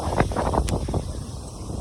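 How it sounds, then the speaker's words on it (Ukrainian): Strong wind buffets the microphone during a 15 km run in loud, rough gusts, a continuous roaring rumble with brief bursts of rustling. "Такий вітер."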